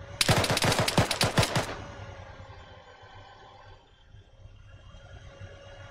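A rapid burst of automatic gunfire from the military shooter ARMA 3, about nine sharp, loud cracks in quick succession, followed by a quieter rumbling ambience.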